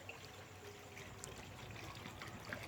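About a litre of water is poured into a pan of sautéed garlic, giving a soft, steady trickling and splashing that runs quietly and continuously with a few small bright splashes.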